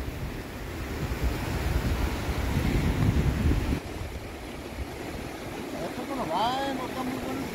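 Rough, churned-up sea surges against a rocky cliff at a fishing spot, with a steady roar of surf and heavy wind buffeting the microphone; someone speaks briefly over it.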